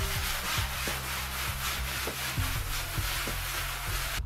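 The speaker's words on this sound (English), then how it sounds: "use sandpaper to smooth down any severe bumps in the wall" Sandpaper rubbed back and forth over a wall surface to smooth bumps before wallpapering, a steady close scratchy rasp with regular repeated strokes throughout, no voices.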